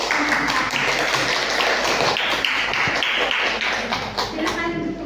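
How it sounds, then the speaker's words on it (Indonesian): Students in a classroom clap for their classmates in group 4 during a teaching-practice lesson, producing a steady, dense burst of clapping close by for about five seconds with voices mixed in. "tepuk tangan untuk kelompok 4"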